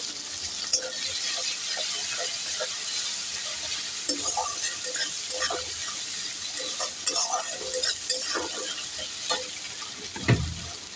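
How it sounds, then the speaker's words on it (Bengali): Chopped onions hit hot oil with nigella seeds for a fish curry, then fry with a steady loud sizzle and occasional stirring scrapes, close and continuous. "এবার দেবো পেঁয়াজ কুচি"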